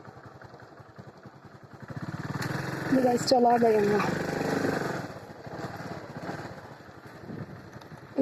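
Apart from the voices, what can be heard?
Honda motorcycle engine running after starting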